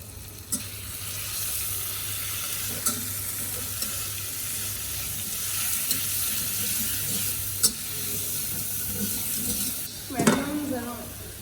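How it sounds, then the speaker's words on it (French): Butter melts in a pan with a soft, steady sizzle under a constant hiss, broken by a few faint clicks and a clatter of utensils near the end, with no voices. "Nous allons faire fondre un peu de beurre, matière grasse."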